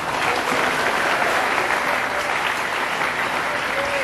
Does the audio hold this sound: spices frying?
no